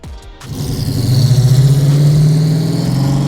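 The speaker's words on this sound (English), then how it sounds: "filming a couple of rolling shots of the Plymouth Cuda as well as the Dodge Coronet just leaving the shop" A classic Plymouth Cuda and Dodge Coronet pull away from a shop, a low, throaty engine note rising and settling into a loud, pulsing rumble as the cars roll off.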